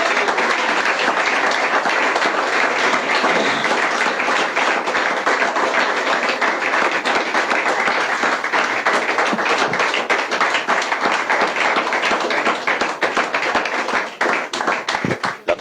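A church congregation claps hard and steadily for about fifteen seconds, a dense, loud wall of hand claps that never thins out, with a few sharper taps near the end.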